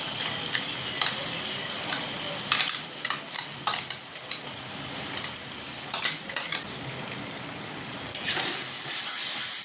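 Minced shrimp, coarsely ground, frying in a pan with spices for a pointed gourd dolma filling: a steady sizzle broken by irregular scraping stirs, close and moderately loud, with no voices.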